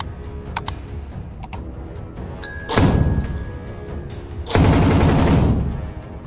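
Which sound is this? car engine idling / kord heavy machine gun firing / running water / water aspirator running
kord heavy machine gun firing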